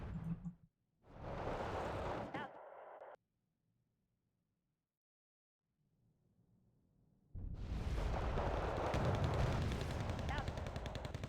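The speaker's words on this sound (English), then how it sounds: "This is mortar." Mortar fire in the video game Wargame: Red Dragon, heavy rumbling bursts of booming fire that break off into near silence before a loud, sustained barrage resumes.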